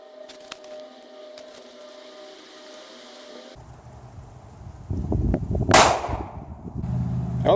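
A single sharp .380 ACP pistol shot is fired into a block of clay after several quiet seconds of faint background, followed by rustling and handling noise.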